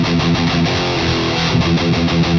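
Electric guitar played through a BluGuitar AMP1 Iridium amp with the boost engaged, giving a dense, distorted, tight tone as steady chords ring out continuously at close range with no talking.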